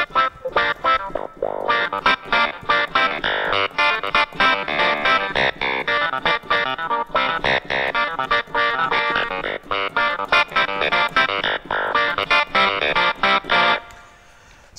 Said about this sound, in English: And let's add a little bit of reverb on there as well.